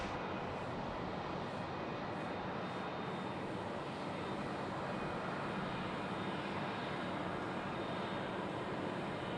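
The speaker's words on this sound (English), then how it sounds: "Natasha is going to be taxiing pretty much right past us. She'll be going down to runway left" An airliner taxiing past toward the runway at Sydney Airport, a steady broad engine roar with a high whine, constant and fairly close, with no voices.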